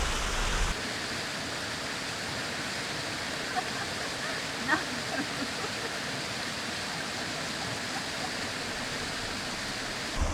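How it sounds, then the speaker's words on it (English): A waterfall roars in a constant, dense wash of noise right beside a wild camping spot, loud and unbroken for the whole stretch, with only faint incidental knocks above it. "That waterfall, too much noise,"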